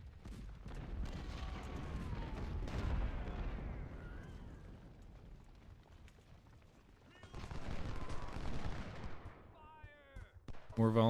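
Musket volleys crackle and roll across a Civil War battle in the game Ultimate General: Civil War, loud layered bursts of massed rifle fire that swell, fade, then return in a second heavy wave.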